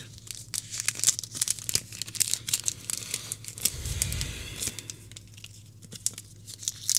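Plastic bag packaging around a new IC chip is torn open for a Nintendo Switch repair, giving steady close crinkling and tearing rustles that run the whole time, with a brief low thump midway.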